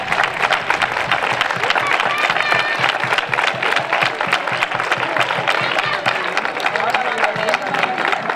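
Loud, dense applause from a large crowd, steady clapping with some cheering and crowd noise throughout.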